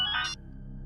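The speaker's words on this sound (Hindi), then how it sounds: "लगता है उसी का फोन।" A phone ringtone chimes for about a third of a second, a bright electronic melody, then cuts off, leaving low background hum.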